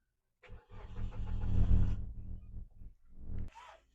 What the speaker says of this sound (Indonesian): sekarang kita nyalakan mobil ini ya